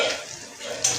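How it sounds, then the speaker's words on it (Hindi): A soft, steady sizzle of ridge gourd frying in oil, with faint stirring and a light scrape of a utensil. "और तेल में 2 मिनट के लिए अच्छे से भून लेना है।"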